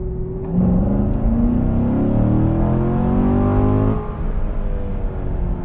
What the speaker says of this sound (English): That V8 sounds good.